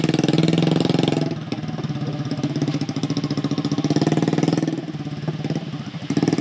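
A jeep engine idles just after starting, close and loud, with a steady fast chugging pulse that swells a little at times. It runs alone, with no talk.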